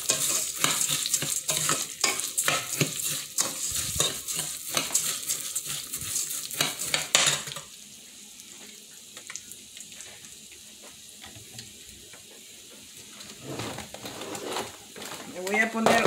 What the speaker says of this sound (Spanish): Arroz y lo revolvemos. Hay que sofreírlo un poquito.